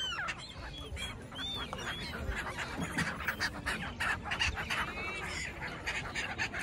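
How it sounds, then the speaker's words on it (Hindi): Many birds call at once at a river ghat on the Narmada, a dense overlapping chorus of honking, goose-like cries and chirps that carries on steadily throughout. "देख सकते हो पीछे कितने सारे पक्षी हैं"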